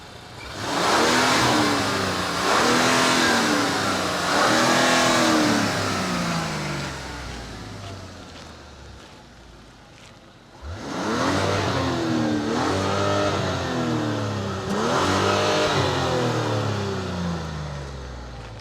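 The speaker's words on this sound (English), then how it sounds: "I'm actually genuinely surprised how sweet and snarly sounding the engine sounds." A 2025 Mazda CX-70 Turbo S turbocharged straight-six engine revs up twice with a smooth, snarly rise and fall, close by, dropping briefly toward idle between the two bursts.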